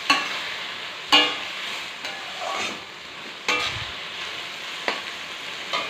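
Coriander leaves being stirred into a hilsa fish curry in a pan, with a steady soft sizzle and several sharp scraping knocks of the spoon against the pan, spaced a second or two apart, with no talking.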